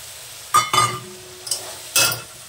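Green peas are dropped into a cooked-down spice paste with oil in a pan, giving four sharp bursts of sizzling and scraping stir strokes between quieter frying.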